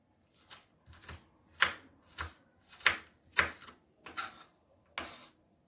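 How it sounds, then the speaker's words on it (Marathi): A knife finely chopping onion and tomato on a board, with about eight crisp, close strokes falling at a steady, unhurried pace and no other sound between them. "अगदी बारीक बारीक असं चिरून घ्यायचं हे कांदा आणि टोमॅटो."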